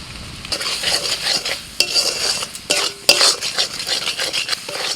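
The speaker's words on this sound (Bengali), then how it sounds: "এবার মশলাটা মিনিট পাঁচেক সময় নিয়ে ভালো করে কষিয়ে নেব যতক্ষণ না তেলটা ছেড়ে আসছে" A spice paste with turmeric fries in hot oil while a spoon stirs it briskly. Irregular scrapes and metallic clinks against the pan ride over a loud, close sizzle.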